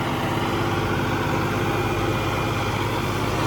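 A tractor hauling a 20 ft PTO trolley up a slope gives a steady, loud low engine drone with no change in pitch, close by and with no talk.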